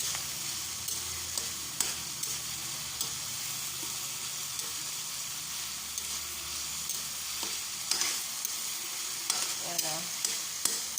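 Tomatoes frying in a pan, with a soft steady sizzle under frequent scraping clicks of a spoon as they are stirred, close up.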